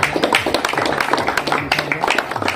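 A small group of people claps for Neeraj sir, a quick, uneven patter of close handclaps with voices talking faintly underneath.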